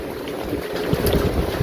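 Strong wind buffets the microphone over a constant roar of rough sea and breaking waves, loud and continuous with no voices.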